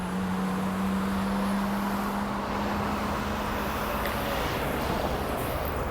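Continuous road traffic roars close by on a London street, a broad steady rumble of passing vehicles with an engine drone, no voices.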